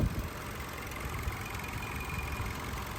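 A 2021 Toyota Camry SE's 2.5-liter four-cylinder engine idles steadily, a smooth even hum heard close up with a faint high whine above it and no voices.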